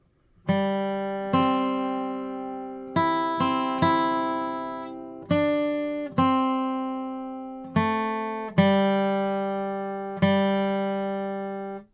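An acoustic guitar plays a slow melody of plucked notes, each ringing out and fading before the next, heard clearly and alone.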